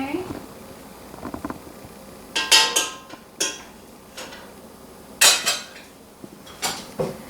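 Utensil stirring melted butter into lasagna noodles in a pan, a handful of sharp metallic clinks and scrapes spaced irregularly, close and clear, with a voice speaking in between.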